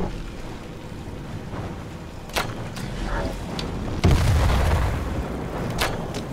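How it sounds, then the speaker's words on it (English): Artillery fire in Skyrim: heavy booms and thuds land in an irregular sequence, the biggest a deep rumbling impact midway, with sharper cracks around it over a constant low ambience. "Oh, you're firing artillery at me now, are you?"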